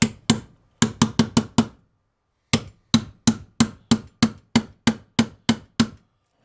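A shock bushing on a Brute Force 750 ATV tapped into place with a hammer, sharp close metallic strikes in two bursts, a quick cluster of six, then a steady run of about a dozen evenly spaced blows.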